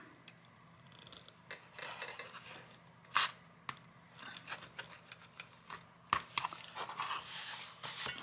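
Fabric being cut with scissors at a craft table for journal covers, heard as a series of short crisp snips and rasping slides of the blades, close and fairly quiet, with no talking.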